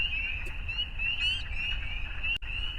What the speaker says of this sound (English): I did not know I got spring peepers at this recorder.